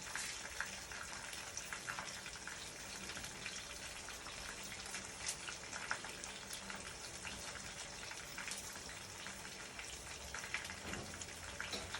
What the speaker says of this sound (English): my rice, my water is boiling up